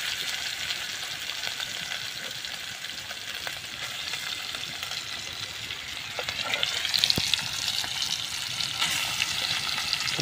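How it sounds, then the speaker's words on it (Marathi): Chicken sizzles loudly in a vessel over an outdoor cooking fire, a steady crackling fry with occasional stirring scrapes and clinks that grow busier toward the end; no speech. "ते बघा आता मित्रांनो, चिकन टाकायचे."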